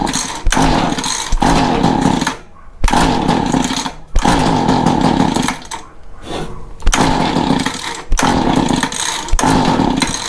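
A Mantis tiller's small two-stroke engine screams at full throttle in repeated loud bursts, cutting out briefly between runs in an uneven rhythm, with no talking.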